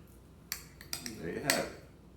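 A small fork clinks and scrapes against a dish while stirring seasoned Yukon Gold potatoes, a few sharp taps and a longer scrape, close and quiet.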